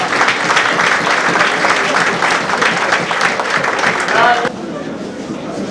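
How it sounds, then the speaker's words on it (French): An audience at a Congolese political gathering breaks into sustained, lively applause with scattered cheering and voices mixed in, loud and even for about four seconds before it thins out. "Est-ce que nous pouvons applaudir pour l'événement de ce jour?"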